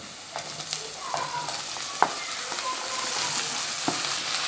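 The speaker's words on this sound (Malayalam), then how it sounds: "ഇനി നമ്മുടെ മുറിച്ച് വെച്ച വെണ്ടയ്ക്ക ഇട്ട് കൊടുക്കാം" Sliced okra tipped into a pan of onions and turmeric, frying and being stirred; a steady sizzle with a few sharp clinks and scrapes of a spoon, close and alone with no voices.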